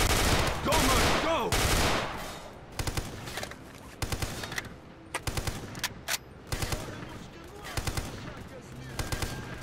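Machine gun fire in the video game STALKER Clear Sky, heavy automatic bursts up front followed by rapid repeated shots with game ambience, loud and close.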